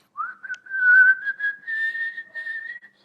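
A person whistles a melody from a tango film, one clear sustained tune with small pitch slides and short pauses, close up and alone.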